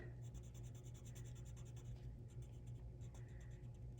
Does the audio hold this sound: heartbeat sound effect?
no